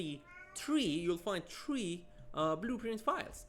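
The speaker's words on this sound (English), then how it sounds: "that's my cat meowing" A pet cat meows repeatedly in a home, its rising and falling cries close and clear, mixed in with someone talking continuously about software files.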